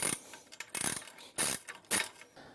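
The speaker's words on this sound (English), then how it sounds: "Secure your last bolt and then you're done." The last coach bolt of an expandable security gate being tightened, heard as four short bursts of metallic ratcheting and clicking with brief pauses between, close by and without speech.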